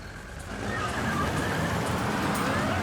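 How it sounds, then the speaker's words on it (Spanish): A car engine revs up and pulls away outside a house, rising steadily from a low rumble into a loud, continuous roar with a faint siren-like tone above it. "Fuera de la casa, Marvin Wells aceleró"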